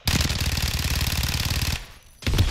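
Rapid, sustained automatic fire from a Fennec SMG in Call of Duty MW3, a dense rattling burst lasting nearly two seconds, a short gap, then another burst starting.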